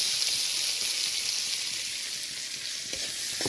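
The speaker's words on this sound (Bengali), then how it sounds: "এই পর্যায়ে আমি কেটে রাখা পেঁয়াজগুলো দিয়ে দিচ্ছি।" Chopped onions fry in oil with whole cumin seeds, giving a dense, loud, unbroken sizzle that stays steady and close throughout, with no voices.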